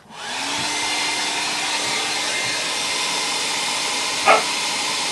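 A hair dryer blows steadily to dry ink on paper, a close, loud, continuous whooshing hum that starts abruptly and runs unbroken, with a brief knock near the end.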